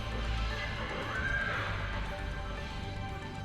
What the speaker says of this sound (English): the yellow team begins the delicate task of unloading the horses and transferring them to waiting trucks